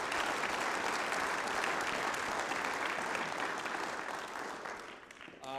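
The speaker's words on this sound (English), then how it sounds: "So let's give those girls a round of applause" Sustained applause from a welcome-home crowd for a state-bound girls' basketball team, dense steady clapping that fades near the end.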